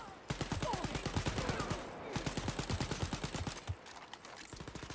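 Rapid automatic gunfire rattles in dense, even bursts in Wolfenstein Youngblood, loud and close, with brief pauses between volleys and a voice speaking underneath.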